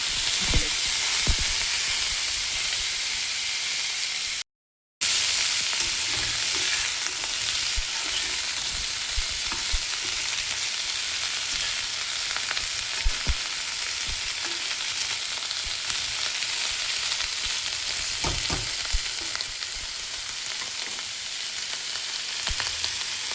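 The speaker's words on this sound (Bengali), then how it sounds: "একটা শুকনো লঙ্কা দিয়ে দিলাম আর একটু কালো জিরে। আজকে ফোড়নে কালো জিরে ইউজ করছি আমি।" Dried red chili and nigella seeds sizzle steadily in hot oil for a tempering, a loud, continuous crackling fry with small pops throughout and a brief dropout near the start.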